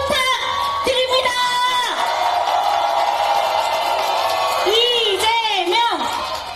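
A political rally crowd cheering and whooping loudly, with shouts and yells rising over a continuous roar, some applause mixed in, and a loudspeaker voice ringing out near the end.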